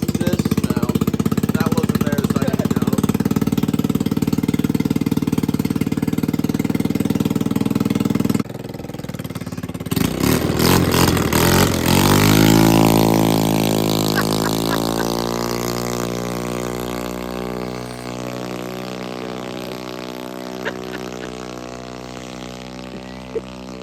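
A far-off vehicle engine screams at very high RPM at an off-road park in Oklahoma, a sustained rising whine that comes after a loud rumbling engine nearby cuts out.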